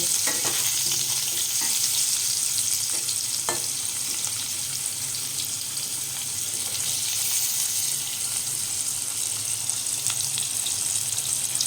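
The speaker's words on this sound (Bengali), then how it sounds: "আলুগুলো ভালো করে ভেজে নেব।" Potatoes sizzle steadily in hot oil in a pan, a constant crackling hiss with a few scraping stirs against the pan.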